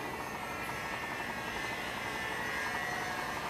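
Twin-engine Dynam Grand Cruiser 310 RC model plane flying at an outdoor field, a steady whining electric motor drone with broad airy noise, constant and moderately loud throughout, no talk.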